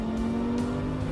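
An Audi R8 laps the Le Mans circuit, its engine droning loud and close at a steady high pitch, with brief rushing swells of road noise and no voices.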